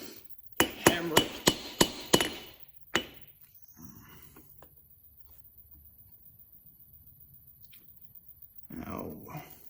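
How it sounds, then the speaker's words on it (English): Chisel struck by a hammer on a small metal miniature halberd: five sharp, evenly spaced close taps, then a single later blow, followed by quiet and faint handling. "could also work to use"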